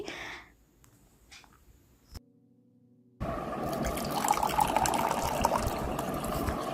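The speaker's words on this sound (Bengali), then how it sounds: "এই জায়গাটা একটু জল দিয়ে ধুয়ে নিচ্ছি" Water splashing and running across a floor as it is washed down, a steady close wash that starts abruptly after a near-silent stretch and continues to the end.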